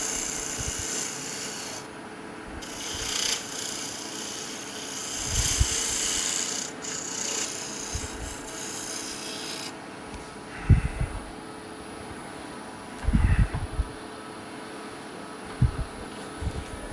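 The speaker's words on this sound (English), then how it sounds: "So I just use it in a scraper mode, but it's very, very sharp in relation to a scraper." A very sharp woodturning tool used in scraper mode rasps against spinning wood on a lathe, giving soft, rough scraping passes with a few louder knocks, fairly quiet against a steady background hum.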